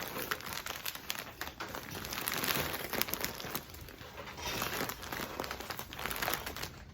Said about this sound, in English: we're just going to flip the bag over.